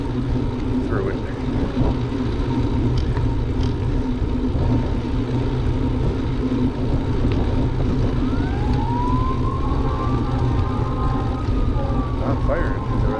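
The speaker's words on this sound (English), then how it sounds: "Fire engines over there on TV Highway." Fire engine sirens wail from a distance on a highway beside a suburban neighborhood, a rising and falling tone running faintly through steady outdoor noise and wind for the whole stretch.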